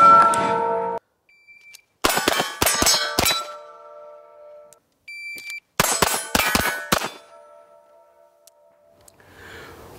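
Gunshots strike steel plate targets on a shooting stage, making two quick runs of sharp metallic clangs and ringing pings, each burst fired rapidly, with the metal ringing on briefly between volleys.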